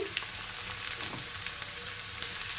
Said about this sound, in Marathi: कांदा भाजत असताना त्यात आपण लसूण